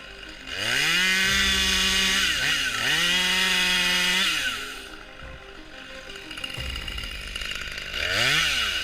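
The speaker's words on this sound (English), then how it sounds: "The chainsaw roars to life," A chainsaw cutting a tree revs up and down repeatedly, loud and close, its engine whining higher with each burst, then easing back to idle between cuts.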